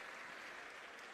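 An audience claps at an MCD ceremony where a sapling is being presented to the mayor. The applause is dense and steady, heard from a distance and fairly faint, with no speech over it.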